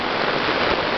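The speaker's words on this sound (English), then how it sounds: "the rain is coming down the road so quickly that the drains aren't able to function properly" Heavy rain pours onto a road in Diamond Creek, overwhelming the drains, as a dense, loud, continuous hiss of water that stays even and unbroken throughout the short stretch.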